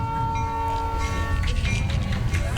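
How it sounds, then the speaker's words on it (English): A train passes near an outdoor monument dedication ceremony in Manchester, with a steady low rumble of rolling cars under sustained horn-like tones that fade partway through. "Hooray for the train."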